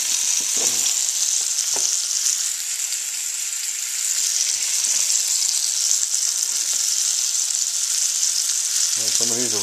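Cod tongues fry in a pan with a loud, steady bright sizzle throughout, a few faint clinks and a brief murmur of talk near the end.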